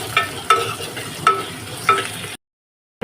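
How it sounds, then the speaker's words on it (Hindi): Chopped onion goes into green chillies frying in a pan. Four distinct scraping stirs sound over a low sizzle, then everything cuts to silence. "तो इसमें डाल देंगे हम अपने एक कटा हुआ प्याज।"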